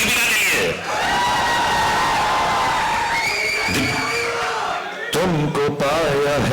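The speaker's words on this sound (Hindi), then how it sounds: "एक बार जोरदार तालियां दीपिका के लिए" A large audience at the Pathaan film success party applauds and cheers loudly for Deepika, a dense, sustained roar of clapping and shouting with voices and whoops rising over the crowd noise.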